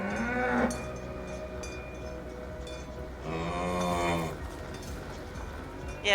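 A cow in the video game Dungeons of Hinterberg lets out two drawn-out, loud moos, the first brief and the second longer, with no talk over them.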